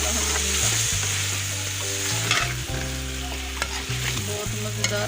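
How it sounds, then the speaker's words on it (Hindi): Bitter gourd and gram lentils frying with coriander and chili powder: a steady, loud sizzle with stirring scrapes throughout and a low, tonal hum underneath, with no talking. "बहुत मज़ेदार फ्राई हुई है।"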